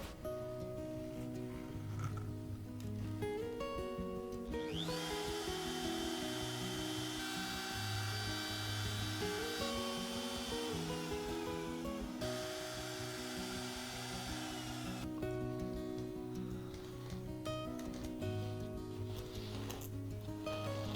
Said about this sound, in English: Let's get these marked up and routed, and then for the first time it's going to look like a guitar.